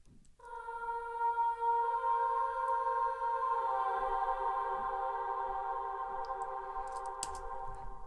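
Vocals drenched in fully wet reverb with a very long decay, a sustained shimmering wash of tones that swells and lingers, shifting pitch midway, with a few faint clicks and no spoken words.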